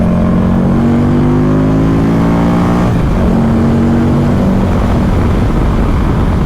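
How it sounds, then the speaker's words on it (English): Engine of a Buell XB9 motorcycle while riding: a continuous, loud drone with rising and falling pitch as the bike accelerates and shifts, plus steady wind and road rumble, with no talking. "I'm not sure how much of that engine note that you can hear"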